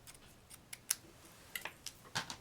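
Scissors trimming a small piece of paper doily for a handmade card, several faint, close, sharp snips spaced irregularly over a quiet background, with no speech.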